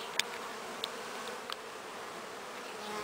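Honeybees hum faintly around a hive's landing board, a steady soft drone with a few brief closer buzzes as individual bees pass near.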